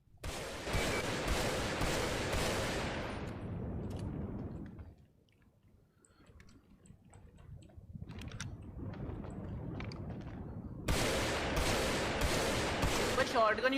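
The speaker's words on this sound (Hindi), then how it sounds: "बस शॉटगन यूज कर रहे थे ये लोग भाई" Shotgun blasts from GTA V roleplay fire in rapid volleys at the start, fade to a quiet stretch with scattered faint shots, then return as another loud burst of repeated shots near the end.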